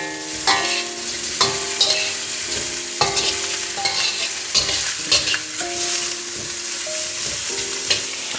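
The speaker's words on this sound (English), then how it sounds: "I'm adding in my garlic now. Once it's a little translucent, I'm gonna add my shrimp in." Garlic and shrimp sizzle in a hot pan while a utensil scrapes and taps against it in an irregular rhythm, close and clear, with no voices.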